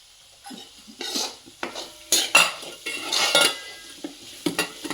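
Onion, tomato and homemade goda masala being stirred and sautéed in a pan, with repeated spoon scrapes and clinks against metal over a faint sizzle, close and fairly loud, no voices.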